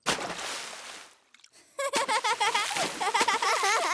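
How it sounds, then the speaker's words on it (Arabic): A cartoon character splashes water in a swimming pool, giving a burst of loud splashing, then a brief lull before a cartoon voice talks over lighter sloshing. "لكن ليس عليك رش كل هذا الماء"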